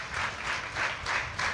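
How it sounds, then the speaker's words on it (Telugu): An audience at a church training programme claps together, a brief burst of steady rhythmic applause from a group of people indoors. "క్లాప్స్ కొట్టాలి గట్టిగా."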